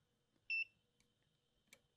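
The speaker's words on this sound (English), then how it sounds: "Now we'll hear the beep and then see the three flashing LED lights." A RadonAway RSA1 radon system alarm gives one short, clear electronic beep, followed by a few faint ticks in an otherwise quiet room.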